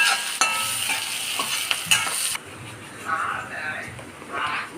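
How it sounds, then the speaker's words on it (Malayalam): Green chillies and chopped ginger stirred in a hot cooking pan, close sizzling with sharp scrapes and knocks of the spoon, easing to a softer simmer as a voice speaks over it. "എന്നിട്ട് നല്ല ഇളക്കി കൊടുക്കുക"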